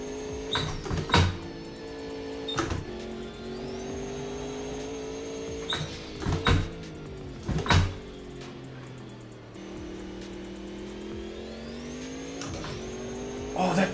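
A race car engine in a racing video game drones with rising and falling pitch, punctuated by sharp turbo whooshes and blow-off bursts on gear changes, with faint talk underneath.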